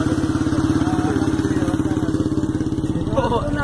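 A motorcycle engine runs close by during a roadside bike stunt, a loud, steady pulsing throb with rapid even firing beats throughout.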